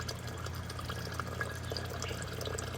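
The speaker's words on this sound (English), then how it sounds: "Here we're adding nitric acid into the impure shot," Nitric acid poured into distilled water covering impure gold shot during refining, a steady close liquid trickle with faint drips over a low constant hum, no talk.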